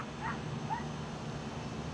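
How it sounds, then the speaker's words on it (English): A dog barks outdoors in Quartzsite, two short yips at a moderate distance over steady background hum, with no talking. "There's a dog barking, and he might be barking at me."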